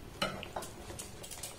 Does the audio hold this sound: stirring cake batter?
yes